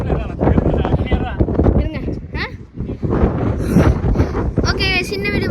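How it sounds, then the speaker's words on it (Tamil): Strong wind gusts roar and buffet the microphone in a loud, constant rumble while a person talks over it throughout. "என்னையே தள்ளுற அளவுக்கு அடிக்குது காற்று."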